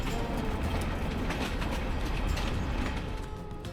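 Albania's last passenger train, a small locomotive accelerating, with a steady low rumble and rolling rail noise heard from on board, continuous and fairly loud with faint clatter over it.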